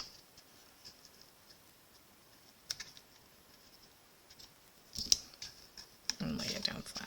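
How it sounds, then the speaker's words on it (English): Paper snips cut through twine at a papercraft table during card making, a few crisp clicks and snaps near the end after a quiet stretch. "Then I'm going to use my paper snips and just cut that twine off."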